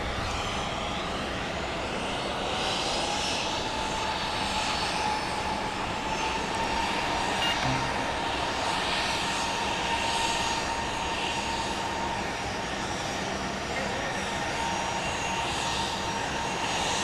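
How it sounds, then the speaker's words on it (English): Airplane engines roar steadily at Dallas Love Field airport at night, a loud continuous jet drone with a sustained whine held throughout, no talking. "Southwest flight number 114 going to Fort Lauderdale is poised for takeoff."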